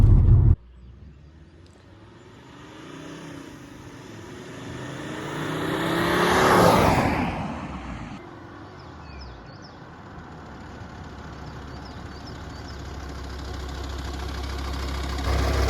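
A 2.4 JTD diesel engine in an Alfa Romeo 156 rumbles steadily from inside the moving car, swelling into a louder, rising surge midway before settling back to a constant drone with road noise.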